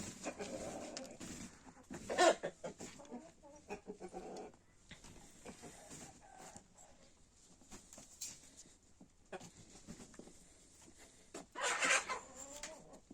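Chickens and a rooster in a backyard coop give scattered clucks and calls over a quiet background, with a couple of louder bursts and occasional barking.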